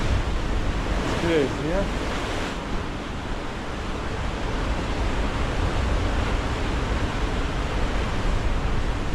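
Force 8 wind roars and rough surf crashes along the rocky coast at Migra l-Ferha in Malta, a loud, continuous rumble and wash buffeting the microphone, with a brief remark from a person near the start.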